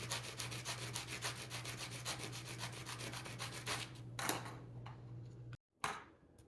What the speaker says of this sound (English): Okay, now that we've got it sanded to the proper width